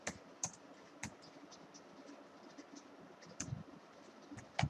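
Keys on a computer keyboard tap quietly in scattered bursts of clicks, a few sharper strokes standing out against faint background hiss.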